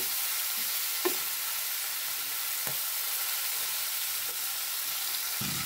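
Fish frying and starting to burn in a hot oiled pan give off a steady, close sizzle, broken by a few sharper pops and crackles.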